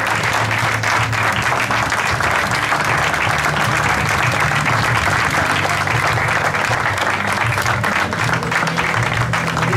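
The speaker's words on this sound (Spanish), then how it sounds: "un fuerte aplauso" Sustained, loud applause from a crowd at the opening of a village's patronal festival in El Berro, Spain, as dense, even clapping that carries on steadily for about ten seconds without talk.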